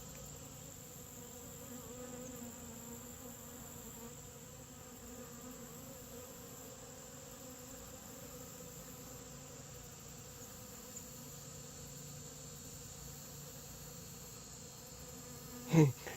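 Honeybees buzz around their colony in a steady, continuous drone that stays close and even throughout, with a single soft knock just before the end.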